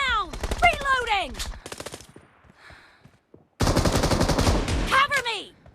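Double-barrel shotgun fire in the mobile battle game BGMI, loud close blasts and rapid gunfire bursts mixed with game effects, a pause with faint sounds, then another dense volley.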